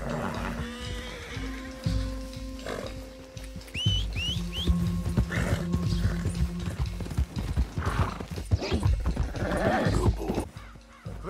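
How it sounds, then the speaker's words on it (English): Horses in the Red Dead Redemption 2 video game whinny and snort up close while hooves clop in a steady walking rhythm, with a few short whistles among the hoofbeats. "Found the horse."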